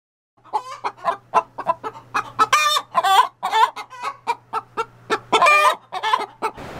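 Hens cluck steadily inside a chicken coop near the nesting boxes, with a close, rhythmic run of short clucks and a few louder drawn-out squawks.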